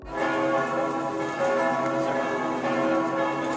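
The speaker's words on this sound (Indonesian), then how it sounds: "lonceng gereja juga dipakai dan dibunyikan di dalam gereja untuk berbagai tujuan seremonial" A church bell rings continuously with rich, overlapping tones that sustain and blend together, loud and resonant with no voices.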